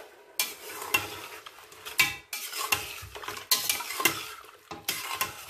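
Repeated scraping and clinking of a spoon stirring garlic and ginger paste in a metal pot, with faint sizzling underneath, steady and close.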